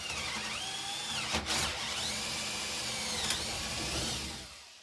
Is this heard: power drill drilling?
yes